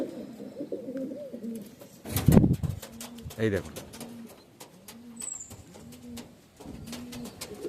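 Pigeons of the Andhra Kalanka and Regder breeds coo in a steady repeating rhythm, soft and close, while someone talks briefly over them and a few handling knocks break in.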